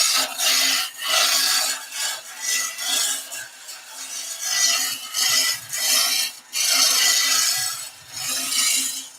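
A cabriole leg being shaped on a wood lathe with a lighter, less aggressive cut, giving a steady rasping, scraping hiss that swells and dips in repeated strokes, close and fairly loud with no talking.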